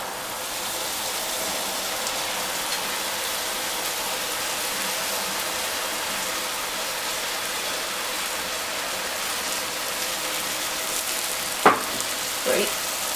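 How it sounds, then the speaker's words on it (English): Dal sizzling steadily in a hot pan with onion and masala, a continuous loud crackling hiss close by, with a couple of sharp clatters near the end. "At this point, we're going to go ahead and add in our dal."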